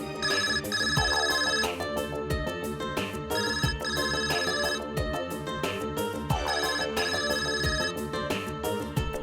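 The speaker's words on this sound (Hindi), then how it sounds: "किस बदतमीज का ये फोन है? बंद करो उसको।" A mobile phone ringtone plays in a courtroom, a loud, looping electronic melody with bright repeating tones and a steady beat, ringing continuously and close.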